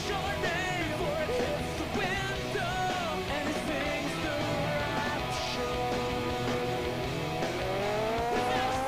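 A Ford Probe driving in the racing game Test Drive: Eve of Destruction, its engine whining steadily and rising in pitch under loud game music, with a squeal of tires and a shout in the mix.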